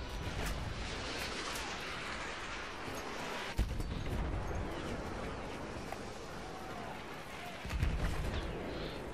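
Artillery shells burst over and over in a World War I battlefield in Battlefield 1, a dense, loud rumble of blasts with sharper impacts standing out near the middle and end, no voice over it.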